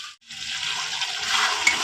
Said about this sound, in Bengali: এখন আমার এর মধ্যে দিয়ে দেবো কাজু বাদাম পেস্ট করা, দিয়ে দিচ্ছি কড়াতে।